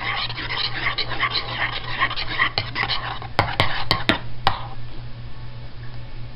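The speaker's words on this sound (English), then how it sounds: "And you stir" A spoon or utensil stirs a drink or mixture in a container, scraping and swirling steadily, with a few sharp clinks against the side near the end, over a low background hum.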